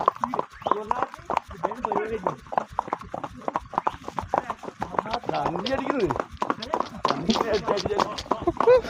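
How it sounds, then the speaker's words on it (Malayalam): Hooves of a walking horse clip-clop in an uneven, fairly close rhythm along a trail in Pahalgam, Kashmir, with people talking over the steps throughout. "കുതിര അതിന്റെ സമയത്ത് അങ്ങനെ പോകുന്നുള്ളൂ"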